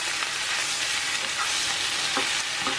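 Spinach tossed through crispy garlic and onion in a hot pan, with a dense, loud, continuous sizzle and a few soft scraping strokes from the tossing near the end. No voices.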